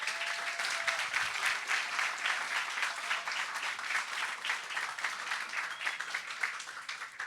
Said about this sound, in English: give yourself a round of applause for making it to here